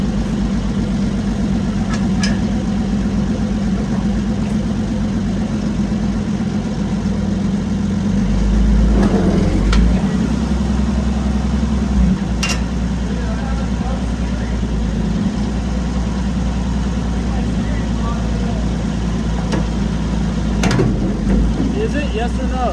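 An Allis Chalmers WC tractor engine runs steadily with a deep, even throb, loud and close, while a few brief clanks and knocks break in over the drone.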